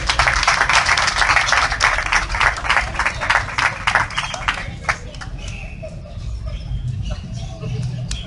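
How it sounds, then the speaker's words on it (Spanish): Outdoor audience at a photography contest inauguration in a town garden in Pénjamo applauding with brisk, dense clapping that thins out into scattered claps, with voices and chatter underneath. "Un fuerte aplauso, compañeros."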